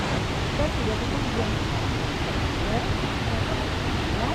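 Kuang Si waterfall near Luang Prabang, Laos: a constant, full roar of cascading water that holds steady and dense from start to finish, heard close by.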